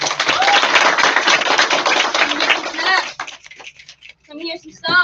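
Open mic night audience applauding a poet performer, a dense burst of clapping for about three seconds that breaks up into scattered claps and cheering voices.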